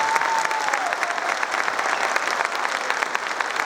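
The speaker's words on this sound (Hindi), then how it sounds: "आइए अब हम उसके लिए ताली बजाएंगे जो मुर्दों में से जिंदा हुआ।" A church congregation applauds to praise Jesus, sustained dense clapping from a large crowd, loud and even throughout. A held tone fades out at the start.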